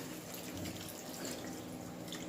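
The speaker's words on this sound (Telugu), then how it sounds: "ఇప్పుడు వాటర్ పోసేసుకోవాలి." Water pours steadily into a pan of fish curry, making a soft, even rush of water that stays faint and close throughout, with no talking.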